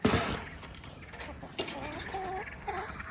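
Several chickens clucking inside a winter coop, nearby and moderately loud, with brief rising calls and soft background murmuring and rustling.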